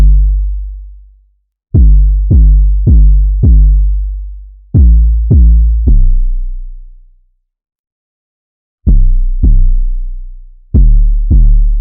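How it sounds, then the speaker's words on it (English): Deep, booming 808 bass notes from the Sublab plugin in a trap beat, a syncopated pattern of loud, pitched hits with long decaying tails and gaps of silence, heard alone. "The last component of the drums is the 808 pattern"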